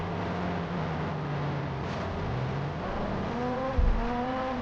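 Rally car in a racing video game, its engine droning steadily with rising revs and a brief thump near the end, loud and alone with no talk.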